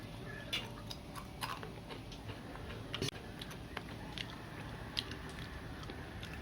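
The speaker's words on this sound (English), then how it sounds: "You can hear the crunchiness." Crisp crunching bites of rempeyek, a fried Malay snack, a few sharp cracks standing out over a steady low background noise, close to the mic.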